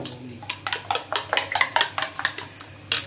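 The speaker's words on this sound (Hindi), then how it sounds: "अब मैं इसको मिक्स कर लूंगा" Potato omelette ingredients with black pepper being whisked in a bowl, a quick run of close, bright clinking taps of utensil against dish in an uneven rhythm, with no talking.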